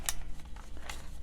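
A paper flap on an origami cat model is folded over, giving a brief, close, crisp crinkle and a couple of soft paper rustles.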